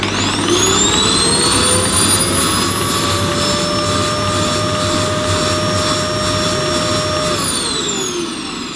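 A Hoover Z400 vacuum cleaner with very weak suction and in need of a clean winds up into a loud, steady high motor whine, holds it for several seconds, then begins to spin down.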